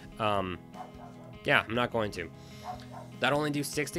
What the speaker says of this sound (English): You might hear my dog barking in the background.